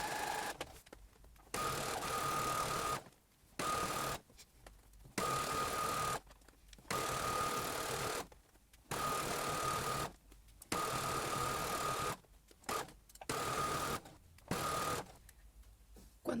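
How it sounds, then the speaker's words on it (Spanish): Home sewing machine stitching along a fabric edge while making a button-up dress: steady whirring bursts of stitching, several seconds each, broken by short silent pauses, close and clear. "voy a poner mi borde de la tela al borde del prensatela y voy a partir rematando y voy a coser por todo el borde"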